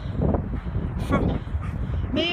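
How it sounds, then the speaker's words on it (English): A dog barks a few times, sharp yelps breaking through steady background noise and a talking voice. "oh stop barking"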